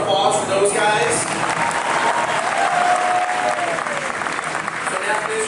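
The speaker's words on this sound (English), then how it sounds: "a round of applause for those guys" Audience at a Transformers fan-event panel at Universal Studios breaks into sustained applause, dense steady clapping with some cheering, loud and continuous throughout.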